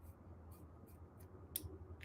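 Sewing scissors snipping through quilting fabric, a series of short, soft crisp cuts repeating about every half second, close by and fairly quiet over a low steady background hum.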